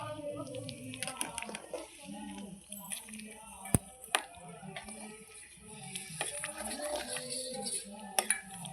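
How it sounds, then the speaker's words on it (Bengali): Khichuri being stirred with ghee in a pot, with soft scraping and clinks of a utensil against metal and a few sharper knocks, under a steady kitchen background with some voice. "নাড়িয়ে দেবো ঘিটা দিয়ে।"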